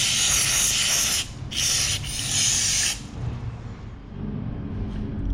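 Brake cleaner sprayed onto Kawasaki Vulcan CVK carburetor parts during a rebuild: three loud, close hissing bursts of roughly a second each, followed by quieter dripping and handling noise.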